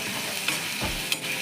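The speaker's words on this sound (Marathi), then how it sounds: "आता हे छानसं तेल सुटेपर्यंत चांगलं भाजून घ्यायचं आहे आपल्याला" Fish-curry masala is stirred and roasted in oil in a pan, a close, steady sizzle broken by two brief scraping clicks of the spoon, with no talking.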